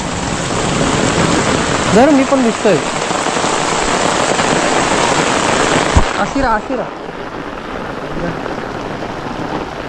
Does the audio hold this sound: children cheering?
no